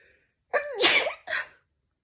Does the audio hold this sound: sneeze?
yes